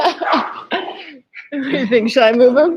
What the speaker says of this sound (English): our puppies who are currently running around the floor like mad dogs